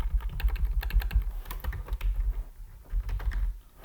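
Quick, irregular clicks of computer keyboard keys being typed nearby, a steady patter of light taps with a short pause near the middle, and no talking.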